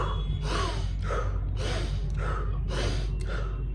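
Tumo breathing: a series of about six forceful, rapid inhale-exhale breaths in a hyperventilation rhythm. The breaths are close, sharp and gasping, with short gaps between them and no speech.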